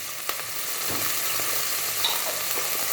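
Ginger garlic paste frying in a pan for Thai fish soup, a steady close sizzle with a few faint stirring clicks and no talk.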